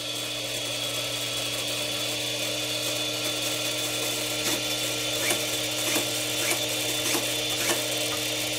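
Small cooling fan on a Castle speed controller spinning inside an RC helicopter, Soxos 700 tail system, giving a steady whirring hum with faint ticking and mechanical clicks, no talking.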